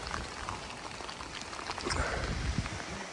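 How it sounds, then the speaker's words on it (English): Light rain falls around a hiker outdoors on the Appalachian Trail near a shelter. Soft scattered drops patter steadily over a gentle hiss, growing slightly denser partway through, with no talking. "It's starting to rain a little bit."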